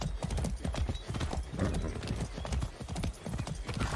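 Rapid rhythmic hoofbeats of a galloping horse in the video game Far Cry 6 pound steadily and loudly throughout, with a brief whinny mixed in.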